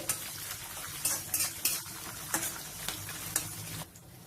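Green and dried chillies fry in hot oil in a pan, giving a steady, bright sizzle with scattered scraping clicks from stirring. The sizzle stops abruptly near the end.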